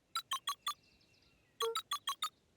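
Keypad buttons being pressed in the video game Beacon Pines, sounding as two quick bursts of bright electronic beeps, four then five, evenly spaced and clear against a quiet background.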